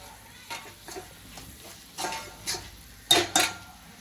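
A spoon stirs tomato and ginger-garlic paste in a pan for crab gravy, giving soft scrapes and a few sharper metallic clinks spaced irregularly over a faint background hiss, close by.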